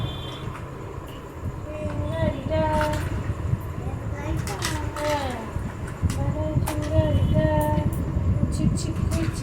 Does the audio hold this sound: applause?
no